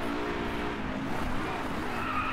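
Tires skid under hard late braking on a racing car in DriveClub, a steady loud scrub over a droning engine for a couple of seconds, with no pauses.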